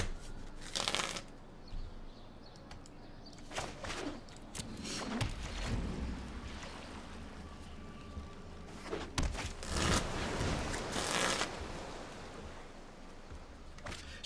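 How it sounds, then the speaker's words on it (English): A Magic: The Gathering deck being shuffled by hand in repeated riffling bursts, close and fairly quiet, with pauses between the runs of card flutter and no talk. "is it rude to be shuffling my deck and not show you?"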